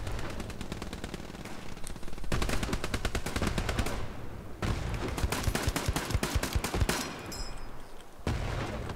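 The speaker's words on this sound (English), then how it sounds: "I got fucked up by a grenade, man" Intense gunfire on Omaha Beach in Hell Let Loose: loud, rapid machine-gun bursts rattle continuously with brief pauses, heavy thumps mixed in among the shots.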